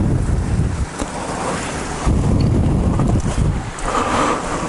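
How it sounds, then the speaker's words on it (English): Steady rushing water of a mountain waterfall roars continuously, a broad, noisy wash that fills the whole clip with no voices. "A waterfall there."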